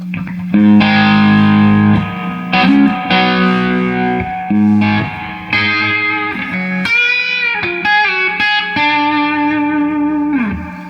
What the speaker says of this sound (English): And got a Noble overdrive.